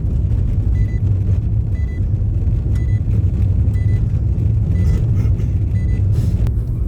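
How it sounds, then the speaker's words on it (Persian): An old Toyota car drives along with a loud, deep, steady engine and road rumble close by, interrupted only by faint clicks and rattles. "این هم یک ماشین توییتای قدیمی یادش بخیر"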